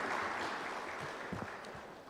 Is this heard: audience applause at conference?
yes